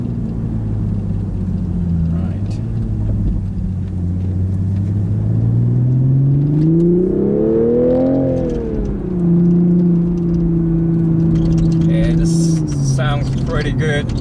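A 2021 Toyota GR Supra GTS sports car accelerates hard with a loud, steady engine drone that rises in pitch, peaks, then holds at a lower steady tone as it pulls through the gears.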